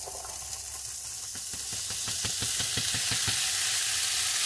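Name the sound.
onions, peppers and corn frying in pan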